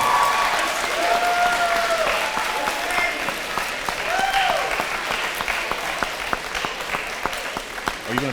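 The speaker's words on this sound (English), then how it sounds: "give yourselves a round of applause, valedictorians and salutatorians of the class of 2023" Audience applause for the valedictorians and salutatorians of the class of 2023 at a high school announcement, a steady wash of clapping across the whole stretch, with a few faint voices and tones mixed in underneath.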